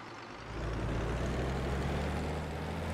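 Tractor engine in Farming Simulator 15 builds up after half a second into a steady, loud low drone with a faint whine on top, holding evenly with no talk over it.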